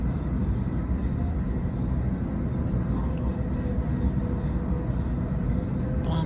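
A rickety commuter train rumbles along on the line to Richmond, a steady, close, low roar that holds evenly from start to finish with no voices.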